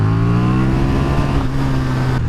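A KTM Super Duke R motorcycle engine pulls hard under acceleration, a loud continuous drone with rising harmonics that climb in pitch across the whole stretch, heard up close with no voices.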